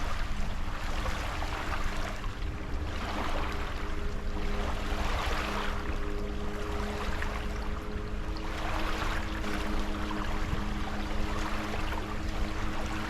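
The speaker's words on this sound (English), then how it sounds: "Why do I feel like all the boats have moved towards us?" Motorboat engines drone steadily across open reservoir water, with the hum swelling and fading in waves while water laps nearby.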